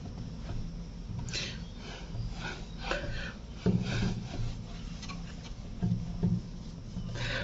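An object is rubbed by hand with a dry, wooden rasping scrape that repeats in short uneven strokes, close and moderately loud, with no speech.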